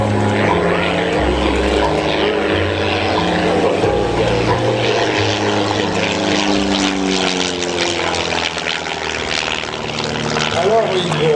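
A propeller airplane drones loudly and steadily at an air show, its engine tone shifting as it passes, with a voice talking over it.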